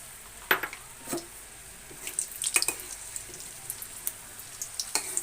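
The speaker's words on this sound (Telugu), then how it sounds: "ఈ డ్రై ఫ్రూట్స్ని దీంట్లో వేసి కొంచెం వేపుదాం" Dry fruits are dropped into hot oil and begin frying, giving soft, sparse crackles and sputtering pops, with a few sharper clinks of a utensil against the pan in a quiet kitchen.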